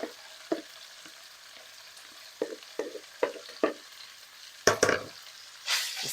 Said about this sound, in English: Just gonna mix everything to combine with that liver